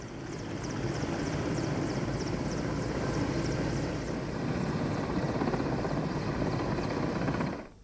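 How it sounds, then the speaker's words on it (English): An army helicopter flies during a rescue operation after two cable cars collided, its rotor throbbing steadily and fairly loud for several seconds before cutting off abruptly. "There you can see the army chopper that helped with the rescue operations."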